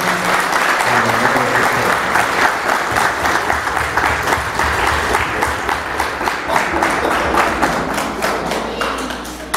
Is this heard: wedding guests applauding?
yes